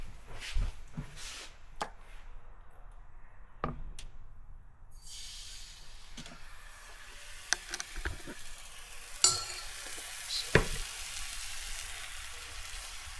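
Crepe batter cooking in a buttered pan over medium heat, a soft steady sizzle with occasional scraping and utensil knocks against the pan.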